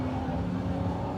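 A Toyota Supra driving past at a car cruise event, a steady loud engine drone with a constant low hum, close and unbroken for the whole moment.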